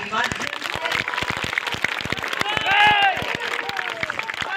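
A crowd at an outdoor sports festival in Raebareli claps sharply for soldiers being honored, scattered distinct claps running throughout beneath someone speaking loudly over the noise.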